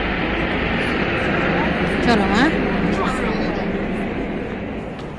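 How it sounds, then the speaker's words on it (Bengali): A helicopter bringing patients to Burzan hospital makes a steady, broad roar that fills the clip, with a brief swell midway and people talking briefly over it. "হেলিকপ্টারের শব্দ"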